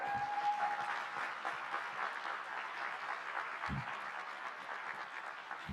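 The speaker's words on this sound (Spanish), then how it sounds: "un aplauso muy grande, por favor" Applause from a congress audience fills the hall, a steady dense wash of many hands clapping at moderate level, continuing evenly without voices.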